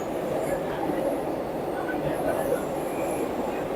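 Vande Bharat Express on the Ahmedabad to Surat run gathering speed, a steady loud rumble of wheels and rolling stock heard from inside the train, continuous and unbroken throughout.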